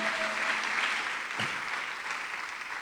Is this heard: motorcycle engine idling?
no